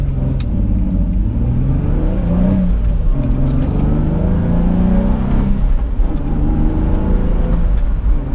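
A Nissan 350Z engine revving and accelerating through the gears, loud and close, the pitch rising and falling in repeated sweeps with a steady engine roar throughout and no voices.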